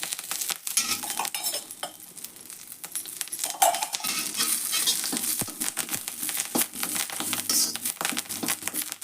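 Whole spices roasting in oil in a pan for homemade garam masala, a steady crackle and sizzle with scraping and stirring clinks close by, continuous and fairly loud.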